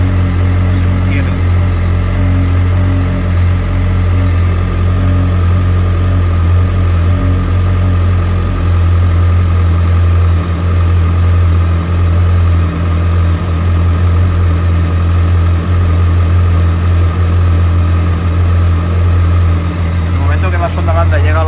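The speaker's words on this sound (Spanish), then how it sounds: "cuando arrancamos en frío, el ralentí está más o menos estable, se mantiene." A BMW K1200S motorcycle engine idles steadily and loudly up close after a cold start, a constant low rumble with even vibration throughout, no noticeable revving.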